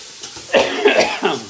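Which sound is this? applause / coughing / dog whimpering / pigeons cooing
coughing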